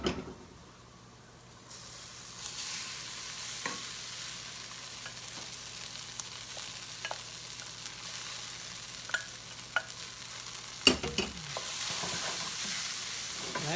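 Rice tipped into a pan with turmeric and stirred, a sizzle rising after a quiet start, with repeated spoon scrapes and a few sharp clatters against the pan, no talking.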